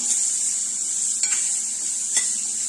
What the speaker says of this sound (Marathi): तर हे फक्त आपल्याला तेलामध्येच असे परतून घ्यायचे आहेत।